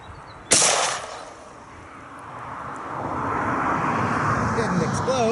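A Rossi Rio Grande .45-70 lever-action rifle fires one hot handload outdoors: a single sharp, loud blast near the start, then a long rolling echo and wind-like rumble lasting several seconds.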